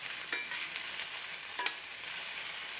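Onions and poblano peppers fry in a pan, giving a constant close sizzle broken by a few brief scraping stirs.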